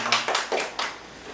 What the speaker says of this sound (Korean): 박수 함께 많이 받으세요